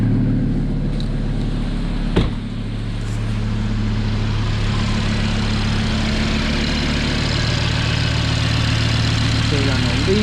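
An Audi RS3 with a DSG gearbox starts up and settles into a steady idle, its low engine rumble running continuously close by. A brief thump comes early on, and faint voices can be heard beneath the engine.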